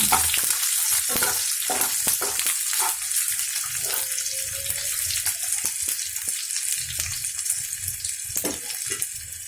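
Grated coconut sizzling and frying in a hot pan of Malabar chicken curry, with steady crackle and occasional scraping stirs close by, no talking.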